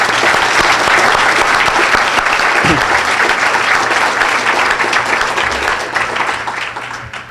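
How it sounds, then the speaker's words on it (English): Loud, sustained applause from a crowd, steady clapping that begins to fade toward the end. "Let's give them all a round of applause"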